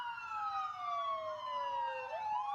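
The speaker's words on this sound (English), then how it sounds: "What's the ambulance for?" Ambulance siren wailing continuously with a steady rising and falling tone, loud and close, sliding lower near the end, with a faint low rumble underneath.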